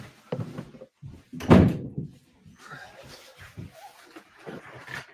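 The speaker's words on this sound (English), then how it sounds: "Let me shut the door again." A door is shut with a single solid thud about a second and a half in, preceded and followed by quiet, intermittent background voices and room noise.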